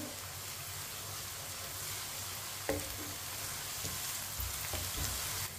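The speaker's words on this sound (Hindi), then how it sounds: "लहसुन को भी 1 मिनट के लिए पका लेंगे।" Crushed garlic frying in a pan with lightly browned onions for aloo matar, a steady soft sizzle with a few faint stirring clinks, heard alone at low volume.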